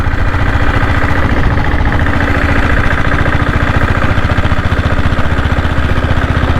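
A black 7.5 HP diesel-engined Bullet motorcycle cruises at about 40 km/h, its single cylinder pounding out a loud, rapid, even thump right up close, with no talk over it.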